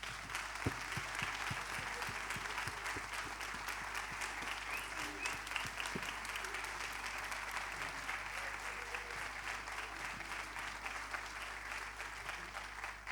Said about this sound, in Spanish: así que por favor un forte aplauso para todas elas.